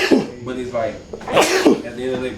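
A single sharp sneeze bursts out in the middle of a casual conversation between several people, loud and close, with talking continuing before and after it.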